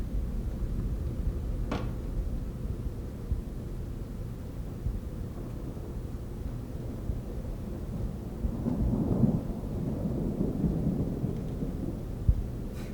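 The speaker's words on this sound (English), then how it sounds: "Is that thunder?" Low, distant thunder rolls beneath steady background noise during a nighttime paranormal investigation. A longer, heavier rumble builds toward the end.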